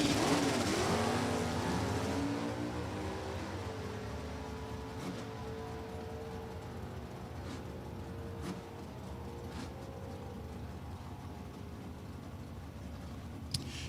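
A 1969 Camaro and a Dodge-powered Marauder drag race at New England Dragway. A loud launch opens with rising engine roar, which then fades into a distant, sustained drone with faint tonal sweeps and occasional sharp clicks.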